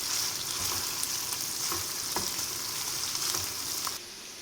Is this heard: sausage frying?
yes